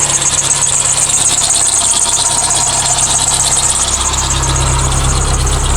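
A 1997 Geo Metro sedan engine idling roughly with antifreeze just added and a suspected head gasket problem, a loud, close, steady mechanical drone with an uneven pulsing throb.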